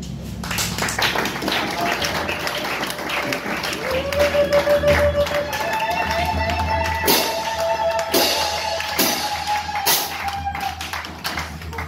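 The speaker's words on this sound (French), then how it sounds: "nous allons les applaudir très fort" A crowd applauds steadily, scattered claps and taps blending into a continuous patter, with a tonal hum running underneath.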